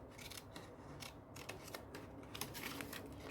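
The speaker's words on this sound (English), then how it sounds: "I'm just going to trim a fraction off there" Scissors trim a scrap of paper for a small gift folio, giving a quiet run of crisp, separate snips close by, with no talking.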